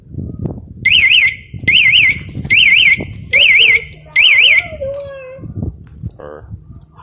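Honda CBR250R motorcycle aftermarket alarm sounding its warning, five loud electronic warbling chirp bursts in an even rhythm, then a falling electronic tone, with a person talking nearby.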